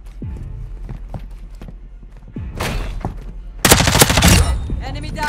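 Gunfire in Call of Duty: Modern Warfare II, bursts of sharp rapid shots at close range followed by a loud sustained automatic volley, with game radio voices over the combat.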